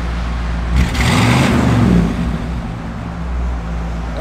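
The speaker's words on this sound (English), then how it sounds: "Give a little rev, Gary." A 1960 Chevrolet Impala's engine revs up once in a loud, close burst, climbing and then easing back to a steady idle rumble.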